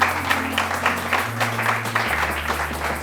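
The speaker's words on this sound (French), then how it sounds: "Nous acclamons pour la parole de Dieu." A church congregation applauds steadily in a dense, continuous wash of clapping over a low sustained organ or keyboard drone, with no speech.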